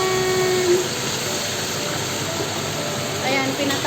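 Fish for samak marag fries in a pan with a steady, close sizzling hiss that carries unbroken for several seconds.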